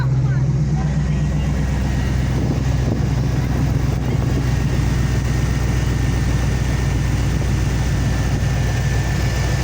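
A 5.3 Vortec V8 in a 2002 Chevy Tahoe idles steadily, a loud continuous low engine hum with some wind buffeting on the microphone and no speech.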